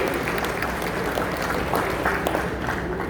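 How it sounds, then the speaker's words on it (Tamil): Audience applause at a trade association gathering: a steady, dense wash of many hands clapping at an even level throughout, with no pauses. "அதற்காக அனைவரும் ஒரு முறை கரவொலி எழுப்பி அவரை பாராட்டுமாறு கேட்டுக்கொள்கிறேன்."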